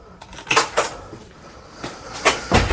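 The door of an old countryside house is opened. Several sharp knocks and rattles of wood and hardware come in quick bursts, close and fairly loud.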